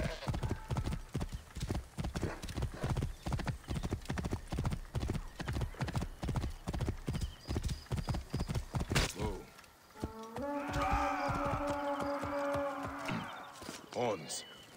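Galloping horse hooves in Assassin's Creed Origins, a steady rapid clip-clop near and loud for about nine seconds before giving way to game horns and voices.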